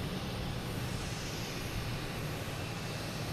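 A JetBlue Airbus A321neo jet arriving at Boston Logan Airport in the evening gives a steady, faint, distant broadband roar, continuous and unchanging with no voices.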